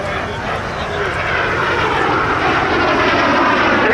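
Rolls-Royce Viper turbojet of a Jet Provost jet trainer roaring past at a Duxford airshow, a loud, steady broadband engine rush sustained throughout with faint crowd voices beneath.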